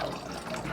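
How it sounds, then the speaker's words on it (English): Distilled water is poured into a measuring container for making shea butter soap, giving a brief, faint, steady trickling splash. "We're going to start by measuring out my distilled water."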